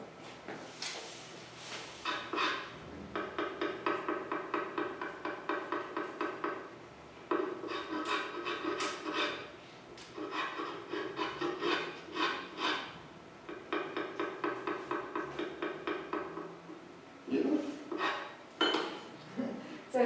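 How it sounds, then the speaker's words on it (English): A hand scraper shaves a wooden workpiece in rapid, regular strokes, producing bursts of dry rasping in a steady rhythm with brief pauses between passes, close and fairly quiet. "he was using a little plane there, but this is a scraper."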